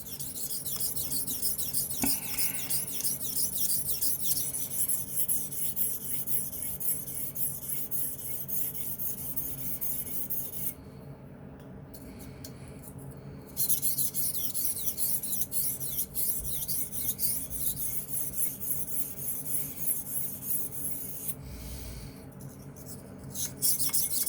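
A knife is sharpened on a Gritomatic 1200 stone, roughly a 600-grit Japanese stone. Steady, close rasping strokes run continuously for over twenty seconds, broken by two short pauses, with no talk.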